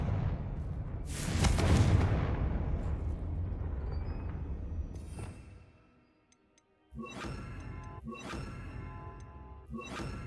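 Confringo fire spell blasts in the Hogwarts Legacy video game, a loud whooshing burst that rumbles and fades into a near-silent pause, followed by two sharp, crackling magical impacts in quick succession.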